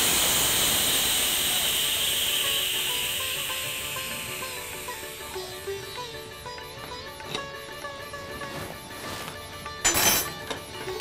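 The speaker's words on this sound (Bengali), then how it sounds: "প্রেশারটা বার করে দেবো।" A pressure cooker of boiled chholar dal lets off its steam in a strong, steady hiss that slowly fades, followed by a few sharp clinks and rattles near the end.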